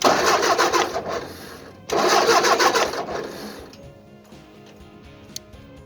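A Ford tractor engine cranks on its starter in two loud, rhythmic churning bursts with a short gap between them, then falls to quiet ticking and faint clicks without catching.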